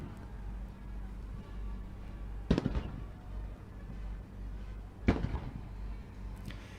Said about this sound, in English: Salute going on right now. That's the noise you're hearing in the background.